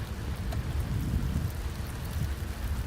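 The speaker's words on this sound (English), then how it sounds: "It's starting to rain here." Rain falls hard during a tornado-producing thunderstorm in Wisconsin, a close, steady wash of drops with a deep rumble of wind or distant thunder underneath.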